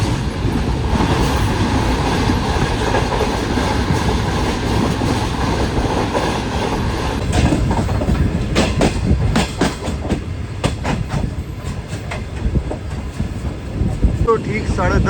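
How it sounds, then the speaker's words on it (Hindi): The Shah Hussain Express runs on the rails in Pakistan, a loud continuous rumble with rhythmic clickety-clack wheel beats growing more distinct partway through, heard from close aboard, with a voice speaking over it. "तो ठीक 10:30 बजे हमारी ट्रेन अप्रोच बना रही है कोठी शहर में"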